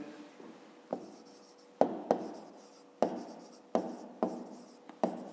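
Numbers written by hand while working a fifth-grade maths exercise: a run of sharp, close taps and short scratches about once a second, quiet and steady, with no voices.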